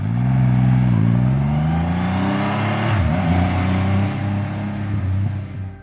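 A 2500cc three-exhaust Triumph Rocket 3R engine revs loudly nearby, its deep exhaust note rising and falling in a few throttle blips before settling back.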